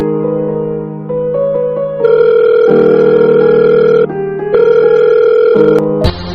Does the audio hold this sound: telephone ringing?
yes